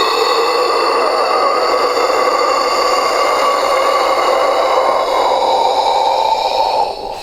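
A voice imitates a sharp, gasping inhale after plunging into cold water, a long breathy rush of air held steadily for about seven seconds, then tapering off at the end.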